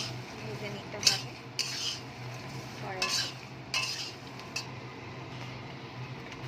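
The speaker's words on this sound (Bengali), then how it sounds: "ভালো করে এটাকে ভেজে নিতে হবে।" Makhana, or fox nuts, are dry-fried and stirred in a pan, with a spoon scraping and clinking against the metal in irregular knocks over a low, steady background hum.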